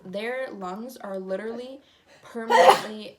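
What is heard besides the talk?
sneeze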